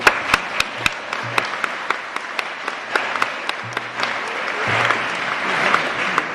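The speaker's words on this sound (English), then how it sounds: "you deserve a round of applause for that" A group at a volunteer appreciation luncheon applauds with scattered, uneven claps, some sharp and close, building into a steady patter of hand claps.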